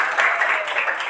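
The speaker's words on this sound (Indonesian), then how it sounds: "Tepuk tangan dulu kita." Students in a school civics class clap together, a brief, busy patter of many hands at moderate loudness with no clear pauses.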